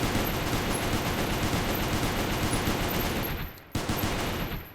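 L6 machine gun fire at mechs in the video game Goobstation, a dense, continuous rapid burst of loud gunshots, briefly cutting out before resuming.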